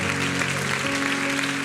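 A church congregation applauds in a steady, dense wash of clapping that holds evenly throughout, with sustained musical tones underneath.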